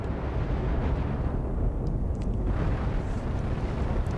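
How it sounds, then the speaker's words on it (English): Nukes detonating against a ship in the space combat game Cosmoteer, a continuous loud rumbling roar of explosions sustained throughout without pause, heavy and dense in the low end with no voices. "I really like how the nukes come in on the inside and blow things up."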